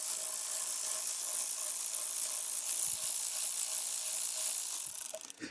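A ratchet wrench loosens the dipstick bolt on a SAAB B205 engine during disassembly, making a fast, continuous close whirring buzz that fades out at the end.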